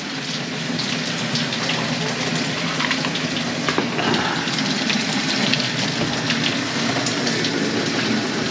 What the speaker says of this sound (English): The water's going